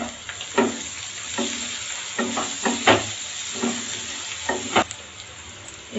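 Onions frying toward a reddish colour, with a soft continuous sizzle broken by repeated sharp scrapes and knocks of a spatula stirring in the pan, close and without speech.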